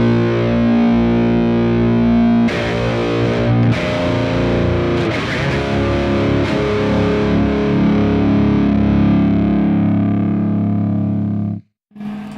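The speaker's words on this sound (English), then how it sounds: "So it gives it that fuzz sound that's a slightly driven amp" A left-handed 5-string bass played through fuzz into a slightly driven amp, giving a thick, distorted, sustained tone with a few chord changes and ringing notes that cut out abruptly near the end.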